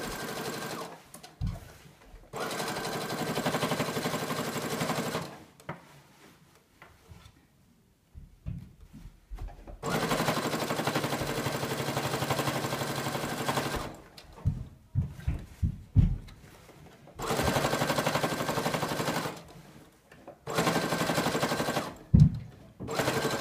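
Sewing machine stitching a narrow seam in the fabric of a mini skirt, running in several bursts of steady whirring with short pauses between them, close and loud, with no talking.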